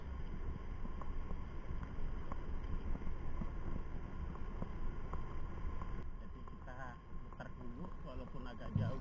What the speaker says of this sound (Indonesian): kita rasakan rintik hujan dan suara motor ya, kita nikmati dalam perjalanan